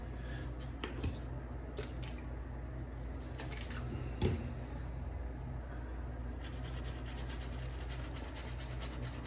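Water runs into a shaving lather bowl, a soft steady trickle and splash close by over a low background hum, with a brief louder knock partway through.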